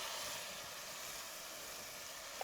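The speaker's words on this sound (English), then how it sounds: "Create a little bit of steam." Water steams on a hot Blackstone griddle while a Reuben sandwich cooks, giving a soft, steady hiss that stays faint and even throughout.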